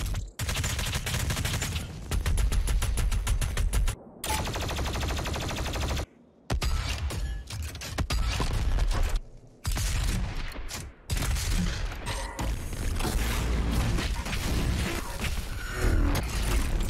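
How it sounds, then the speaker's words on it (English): Heavy weapons fire from the shooter game Doom Eternal: dense, loud bursts of gunfire and booming blasts in rapid succession, with a few brief gaps of silence between volleys. "The weapons all sound like they've been given a good amount of oomph needed for the damage you'll be inflicting"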